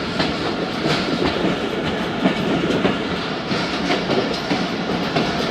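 Jaffar Express train rolling into a tunnel, a dense, loud rumble of wheels and carriages with faint rhythmic clatter throughout.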